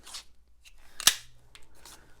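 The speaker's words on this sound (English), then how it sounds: "Thought I brought scissors." Scissors snip paper for a handmade daisy card, a few soft cuts around one loud crisp snap, close and alone without talk.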